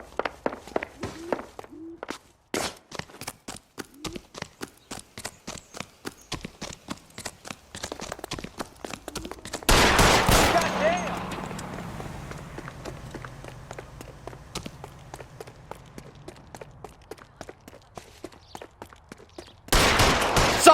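Gunfire in the video game L.A. Noire: a string of sharp, clipped shots leads into a loud, heavy blast halfway through that trails off into a low rumble, then another loud burst at the end.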